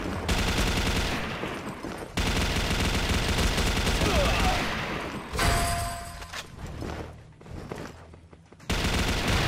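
An MK5 turbine machine gun fires in a mobile shooter game, long unbroken bursts of rapid gunfire separated by brief pauses, loud and close.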